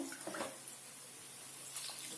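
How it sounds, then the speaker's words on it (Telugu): Water poured from a glass into a pot of mung dal with amaranth greens and tomato, a soft steady splash and trickle, quiet and close, with no talking. "ఇప్పుడు మనం దీనికి సరిపడా నీరు పోయాలి"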